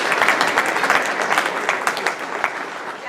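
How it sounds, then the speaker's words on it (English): A room gives Libby, a volunteer bell-ringing organiser, a big round of applause: dense, steady clapping from many hands at moderate distance, with a few sharper individual claps standing out. "Everybody please give Libby a huge round of applause"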